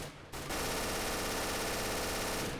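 Automatic gunfire in an alpha build of Counter-Strike: Global Offensive, a sustained rapid burst that starts abruptly after a short pause and runs steadily for about two seconds, fairly quiet overall.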